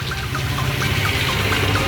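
Water is sprayed steadily over fresh cement work in a continuous, fairly loud hiss with a low rumbling hum underneath.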